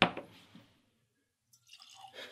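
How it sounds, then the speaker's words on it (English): Foursquare 2007 rum poured into a glass at a tasting, a short splashy pour and drip at the start, then a pause before more faint liquid trickling and clinking. "I don't know why I'm having so much trouble pouring right now."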